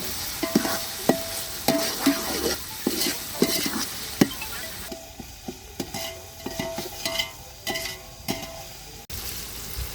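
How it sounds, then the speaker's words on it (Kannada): Onions roast in a pan for egg dum biryani under a soft, continuous sizzle, with frequent rhythmic scrapes and taps of a spoon stirring against the pan and no talk. "ಈರುಳ್ಳಿ ಸ್ವಲ್ಪ ರೋಸ್ಟ್ ಮಾಡ್ಕೊಳ್ಳಿ"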